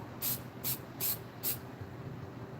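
Four short hissing bursts of spray adhesive hit a surface in quick succession, close and fairly quiet, with a faint background hum between them.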